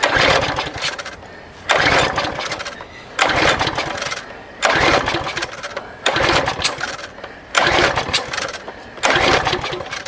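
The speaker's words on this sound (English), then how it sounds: "Why is it backfiring like that?" A found lawn mower's small engine repeatedly starting and backfiring, loud and close, with roughly six bursts of running at regular intervals separated by short dips.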